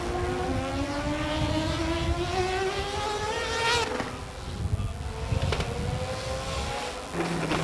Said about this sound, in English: Look at that car go as they go through the Pepsi air pit